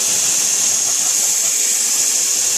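A power sander works wood through its sandpaper grits, giving a loud, steady abrasive whir and hiss that runs unbroken from start to finish with no voices.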